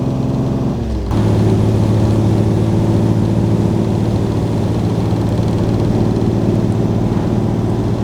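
A 1938 BMW 327/28 Sport Cabriolet engine drones loudly and steadily while climbing a hill, its pitch shifting briefly before settling into a strong, even labouring hum under load.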